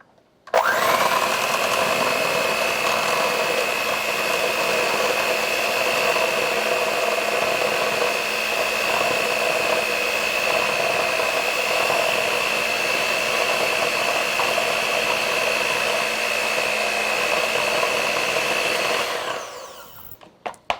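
An electric mixer running on low, mixing a white sauce for pizza, makes a steady, loud motor whine that holds for nearly twenty seconds before cutting off, with no talking.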